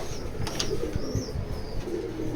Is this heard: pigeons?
yes